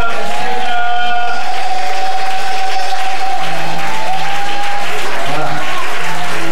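A standing church congregation claps and cheers loudly in acclamation of Jesus, a dense, continuous wash of applause and crowd voices, with a speaker talking over it and sustained music tones underneath.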